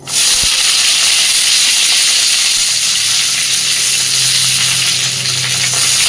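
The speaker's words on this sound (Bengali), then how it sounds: "এবার কড়াইতে আরেকটু তেল গরম করে তার মধ্যে দিয়ে দিচ্ছি ক্যাপসিকাম আর পেঁয়াজ কুচি।" Capsicum and chopped onion frying in hot oil in a wok, a loud, steady sizzle and hiss that stays dense and unbroken throughout, with no talking.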